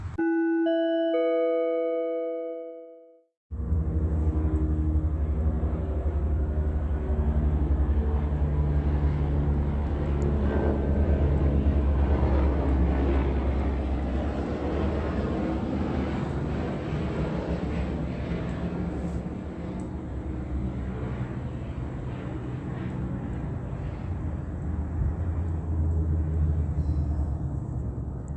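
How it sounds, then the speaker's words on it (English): After a short chime, a loud low helicopter rotor rumble rolls in and holds steady, passing close overhead above a museum at night for a long stretch. "the helicopter begins clapping, flying right over the center of the museum"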